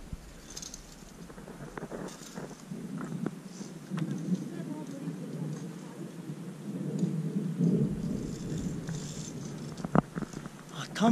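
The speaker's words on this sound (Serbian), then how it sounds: "Tamo negdje grmi i pada kiša." Thunder rumbles over a via ferrata climb in the mountains, with rain falling. The low, continuous rolling sounds distant and lasts throughout, with faint patter and wind noise on top.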